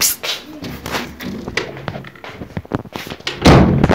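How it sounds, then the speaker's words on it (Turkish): A door is pulled shut among a flurry of knocks, taps and thumps, ending in a loud, close, heavy slam near the end. "Arkadaşlar kapıyı çekeyim."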